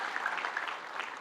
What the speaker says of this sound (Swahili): Tumpigie Mama County makofi mazuri